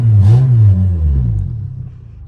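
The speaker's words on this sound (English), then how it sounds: "See, she'll still hit rev limiter." A race car engine revs hard and bounces off the rev limiter, a loud, close wavering roar that stutters briefly, then drops away as it trails off.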